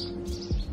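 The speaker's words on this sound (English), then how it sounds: "Do you hear the birds, friends?" Birds chirping inside an abandoned house, a brief burst of light tweets over a steady low hum, with a deeper thump near the end.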